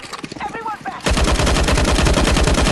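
Rapid automatic gunfire from a CS:GO zombie escape round, loud and continuous after a brief stretch of softer game sounds and faint voice, with dense repeated shots filling the rest.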